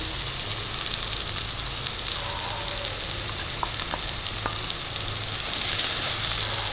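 Egg for Madurai kothu parotta cooks on a hot pan, giving a steady close sizzle and frying hiss throughout, with a few faint scraping clicks and no talk.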